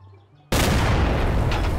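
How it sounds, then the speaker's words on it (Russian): An anti-air cannon fires a single heavy shot in the Garry's Mod video game, a sudden loud boom after a quiet moment, followed by a long, dense roaring blast with scattered debris. "Во, два выстрела понадобилось"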